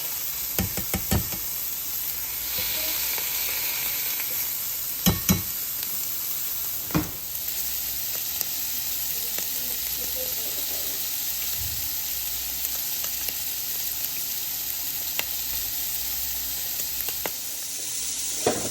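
Small sourdough silver dollar pancakes fry in a pan with a steady, close sizzle throughout, broken by occasional sharp knocks and taps of a utensil against the pan, and no voices.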